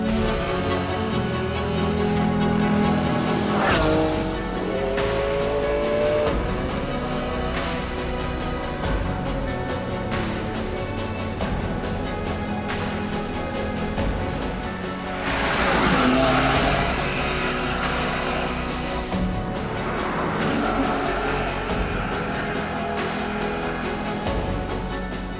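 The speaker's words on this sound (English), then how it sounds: "let's head out for a drive in Italy in a Ferrari Enzo." Ferrari Enzo supercar driven on Italian roads, its engine note rising and falling through gear changes and revs, with sharp bursts of acceleration around the middle and near the end, loud and close throughout.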